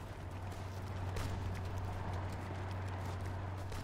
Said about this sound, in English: Man, our horses are fast.